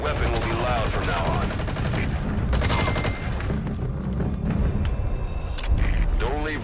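Loud, unsuppressed gunfire in the stealth game Metal Gear Solid V, with repeated shots and a rumbling vehicle engine running throughout, all heard under a voice that keeps talking.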